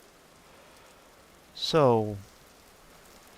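Steady soft rain hisses in the background of the video game Vintage Story, a constant faint wash throughout while someone briefly speaks over it.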